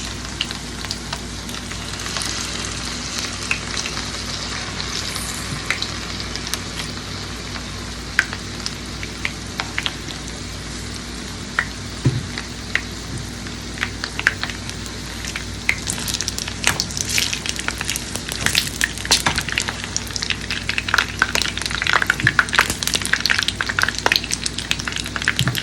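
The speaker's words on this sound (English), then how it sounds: "So we are going to start putting our plantains in" Plantain pieces for tostones fry in hot oil with a continuous dense sizzle and crackle that grows slightly busier over time, with occasional small pops and no voices.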